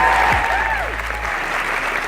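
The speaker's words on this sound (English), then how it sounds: "Give her a big round of applause." Audience applause at a writers' conference session as a query-letter contest winner is announced, a steady wash of clapping that holds throughout at an even, fairly loud level with a brief whistle-like tone near the start.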